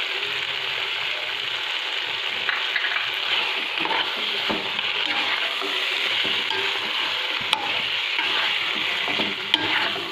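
Beef shinwari in a pan frying with a steady, continuous sizzle, punctuated by the scrape and clatter of a utensil stirring it, loud and close with no talk.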